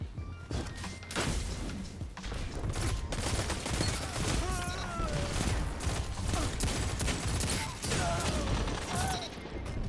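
Rapid bursts of gunfire fill a Destiny 2 firefight with a pulse rifle, dense overlapping shots and booms running nearly nonstop, loud and close, with a voice speaking over the action.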